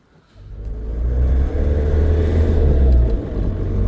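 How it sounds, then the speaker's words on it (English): A tuned 400-plus horsepower VW MK2 TDI diesel car accelerates hard. A deep engine rumble swells in quickly and holds a loud, sustained roar with a faint whir riding over it. "we could not refuse to hear that turbo whistle"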